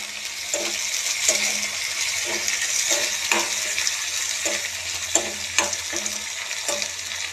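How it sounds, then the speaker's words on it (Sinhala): Dried fish frying in a pan with rampe and curry leaves, giving a steady close sizzle broken by regular clinks and scrapes of stirring. "දැන් නම් මේක සුවඳ ගහලා බැදෙනවා"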